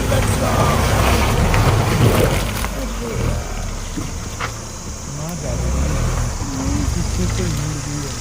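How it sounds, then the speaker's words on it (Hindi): A car stuck in deep mud on a jungle village track strains with a loud, continuous engine roar that swells and dips as the wheels fight for grip, while voices talk over it. "कीचड़ इतना ज़्यादा है कि गाड़ी ऐसे ऐसे डांस कर रही है"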